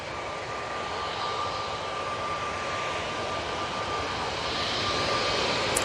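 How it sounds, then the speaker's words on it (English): Steady, loud roar of a Jet2 Airbus A321neo jet airliner near an airport runway, a continuous broadband engine rumble that builds slightly toward the end, with no talking. "A321 Neo for Jet2 now coming on."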